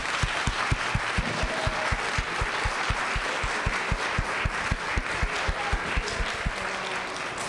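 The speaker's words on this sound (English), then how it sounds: "Let's give them another round of applause." Audience applause at a school spring concert for fifth graders, many hands clapping at a moderate distance, with a few sharp rhythmic claps standing out from the steady wash.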